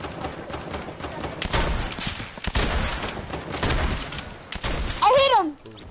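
Bursts of rapid gunfire fill a video game shootout, several loud volleys close together with brief pauses between them, while players shout over the shooting.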